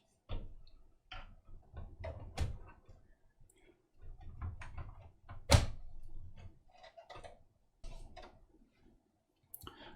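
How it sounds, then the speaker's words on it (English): A graphics card is dropped into a motherboard slot with an open locking lever, giving a quiet series of close plastic clicks and knocks that ends in one sharper snap as it seats, with no talking. "then you can drop your graphics card into place"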